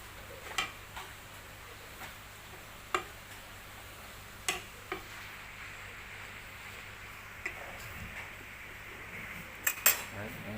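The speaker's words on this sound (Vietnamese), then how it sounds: "Đấy, em xếp cái đĩa này." Dishes clink as a plate is set down and arranged on a table, with light scattered taps and ceramic knocks, close and fairly soft, spaced irregularly over a low steady hum.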